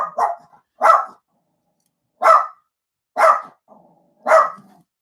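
Close, loud single barks from an indoor dog come at irregular intervals, each short and sharp with silence in between.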